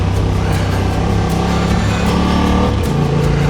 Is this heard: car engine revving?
yes